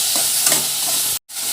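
Soya chunks sizzle steadily in a hot pan as they are stirred, a dense, close frying hiss with soft scraping, broken by one brief cutout near the end, with no talking.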